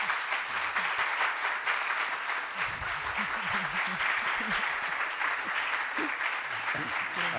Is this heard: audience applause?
yes